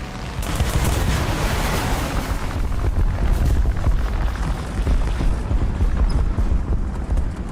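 Bombs exploding in the War Thunder tank game, Japan 6.0 lineup, near an IS-1 tank by buildings: a sustained, loud rumbling barrage of blasts and crackling debris that rolls on steadily without pause, with no talk.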